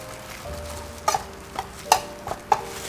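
Flour mixed with seasoning powder for a cheese-stuffed pork roll batter, heard as a handful of quick, close scraping taps of a utensil against a bowl, spaced unevenly over a low background hum.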